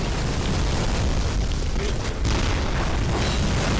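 Continuous heavy, rumbling blasts of cannon fire and explosions in the video game Bloodborne fill the clip with a dense, loud roar, briefly dipping midway before resuming.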